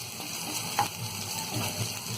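Green onions and capsicum fry in about a tablespoon of oil in a pan, a soft continuous sizzle with a few light clinks and stirring touches, close and steady.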